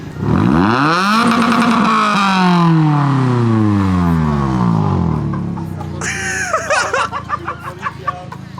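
A Ferrari engine is revved hard from idle, its loud note sweeping up and falling back in long surges before settling, then voices talk over a lower rumble.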